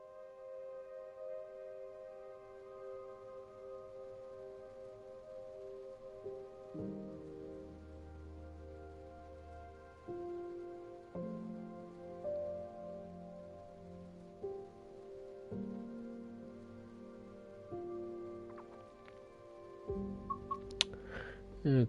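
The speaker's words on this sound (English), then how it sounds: "Every time I hear those rain effects, it makes me think, was that rain outside on the window?" Simulated rain falls steadily in the Train Sim World 5 video game on the Cardiff City Network, a soft continuous patter under train cab hums and shifting engine tones, with a few sharp ticks near the end.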